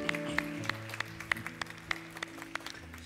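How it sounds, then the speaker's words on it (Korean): Scattered welcoming applause from a church congregation at a newcomers' worship service, a few distinct claps standing out over steady low organ or keyboard tones, thin and moderately distant. "우리 서로에게도 한번 환영의 박수 한번 하겠습니다"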